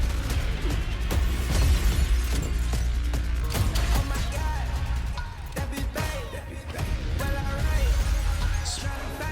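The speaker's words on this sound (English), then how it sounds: "Dropping the shoulder into the glass." A character in Black Ops 7 drops a shoulder and smashes through glass, a loud crash and scattering shatter over dense, driving game music and effects.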